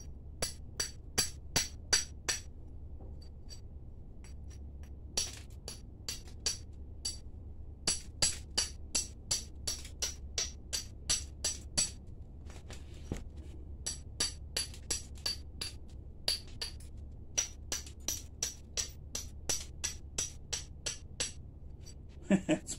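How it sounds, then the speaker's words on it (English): Sharp stone-on-stone strikes as a hammerstone knaps obsidian, dozens of close, bright clicking taps in irregular bursts and runs, loud and near over a steady low background hum, with no talk. "Hammerstone."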